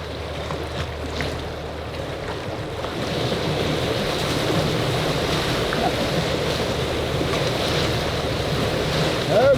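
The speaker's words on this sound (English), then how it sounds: "A little bigger waves than I was expecting." Rushing river rapids and waves surge around a canoe on a sub-arctic river during class 2 whitewater, a continuous broad roar of churning water with wind buffeting the microphone, growing louder partway through.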